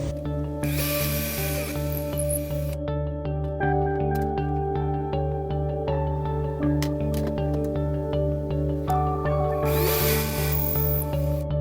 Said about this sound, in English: we're going to have to bore out our inner diameter to make it fit our handle here